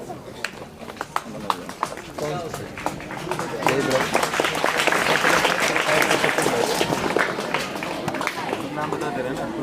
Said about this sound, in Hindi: बाकी लोग ताली बजा के उनका उत्साहवर्धन करेंगे